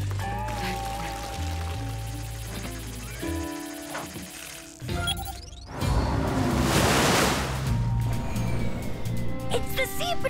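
Cartoon water cannons blast a loud rushing, hissing spray that swells midway and keeps gushing, mixed with a busy musical score and sound effects.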